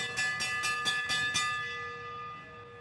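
Last-lap bell at a state track championship race, about six rapid, ringing clangs in a steady rhythm, then a sustained metallic decay fading out; no voices.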